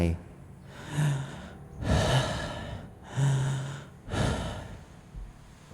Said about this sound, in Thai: เป็นเสียงของ คน เหมือนกับว่าคนนั้นมีอาการป่วยหนักอยู่ กำลังสูดลมหายใจ